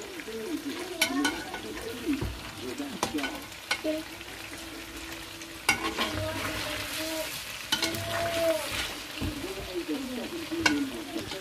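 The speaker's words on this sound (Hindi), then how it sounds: "ये मैंने फ्लेम अब तेज़ थोड़ा कर दिया है ताकि ये अच्छे से भुना जाए" Chicken and masala fry in a pan over high flame, giving a continuous hiss and crackle, punctuated by repeated spoon scrapes and knocks against the pan, with no talk.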